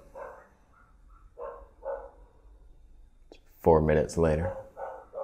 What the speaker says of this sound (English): as the dogs serenade us to sleep